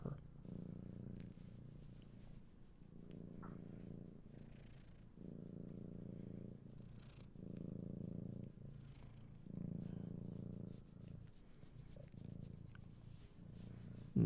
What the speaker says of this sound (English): Oh, you just gonna purr and purr and purr and purr.